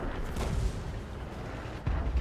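Two deep, muffled booms of a World of Tanks tank cannon firing at a building, one near the start and another near the end, with low rumble between the shots.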